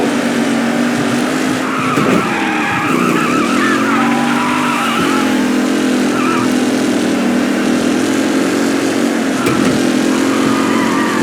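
In a race in the video game Mafia: Definitive Edition, loud, continuous race-car engines drone while tires squeal and skid in repeated swells across the whole stretch.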